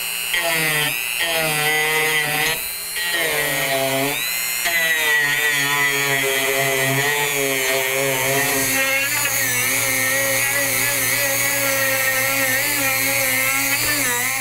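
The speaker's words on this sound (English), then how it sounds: "use my Dremel and just worry away at this bit until I make it look like the inside of a flower" A high-pitched Dremel rotary tool whines steadily as it grinds into a wooden branch, hollowing it, its pitch rising and dipping under load, loud and close throughout.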